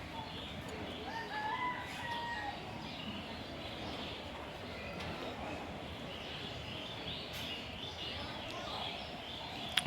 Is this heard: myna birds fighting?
yes